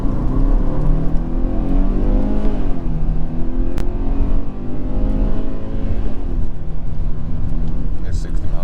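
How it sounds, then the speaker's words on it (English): A 2023 Kia Sportage LX in sport mode with traction control off accelerates hard, its loud engine drone climbing in pitch through gear changes, heard from inside the cabin. "We're going to switch it into sport mode, turn off traction, and try out the acceleration."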